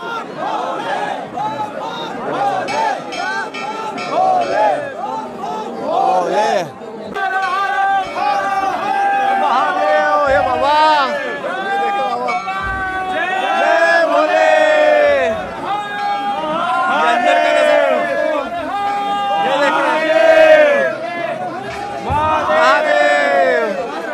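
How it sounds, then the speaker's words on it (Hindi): A dense crowd of pilgrims at Kedarnath temple fills the air with loud, continuous chatter, chanting voices and calls, close and surrounding, with occasional raised shouts rising over the steady babble. "ऐसी भीड़ हो रही है यार दर्शन के।"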